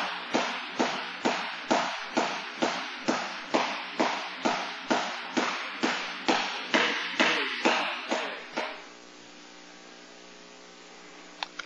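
A skipping rope slaps the floor in a steady, quick rhythm during rope jumping, about twenty sharp close hits roughly every half second, then stops and leaves only a low background hum.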